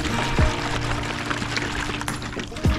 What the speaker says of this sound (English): I'm gonna dunk that right in my water there. Oh, give that a nice shake.